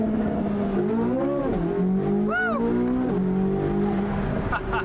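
A Corvette Z06 fitted with a Valvetronic Designs titanium exhaust and OEM downpipes, heard up close and loud, with engine notes rising and falling between shifts and a sharp squeal-like sweep midway, with no talking over it.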